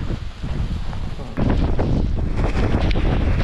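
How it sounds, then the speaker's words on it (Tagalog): Strong gusty wind with heavy rain on the summit of Mount Pulag buffets the microphone with roaring, fluctuating rumble, growing louder and harsher after a brief lull, close and continuous. "Lumalakas ang hangin at sinabayan pa ito ng malakas na ulan."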